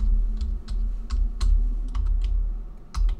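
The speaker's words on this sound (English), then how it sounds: "So I'm going to type his name right here." A computer keyboard clicks as a name is typed, a quick uneven run of close, crisp keystrokes over a low background hum.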